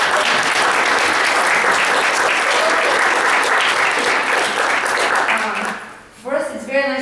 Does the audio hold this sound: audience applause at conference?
yes